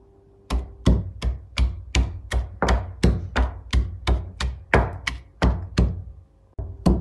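Ginger being pounded to crush it for pudina pakoda: about sixteen sharp, close thuds in a steady rhythm roughly two per second, each a crisp knock with a short decay, after a quiet opening.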